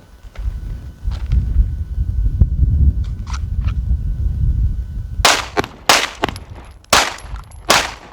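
Pistol double shots, a Glock or Sig drawn from hip or appendix carry and fired in pairs with transfers between targets, crack out as five sharp, loud reports in close pairs after a stretch of low rumbling range noise.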